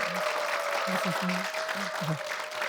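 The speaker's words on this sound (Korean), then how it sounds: "큰 박수 한번 아유 부탁드리겠습니다" A studio audience applauds during a televised government affairs talk program, the clapping a broad continuous wash while low voices speak briefly underneath and a faint steady tone hums beneath it.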